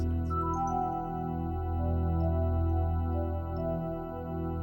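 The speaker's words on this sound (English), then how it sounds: "it's the music of Monkey Island" Intro music from the Monkey Island video game: a steady, sustained synthesized chord texture with held tones, moderately quiet and playing alone without voices.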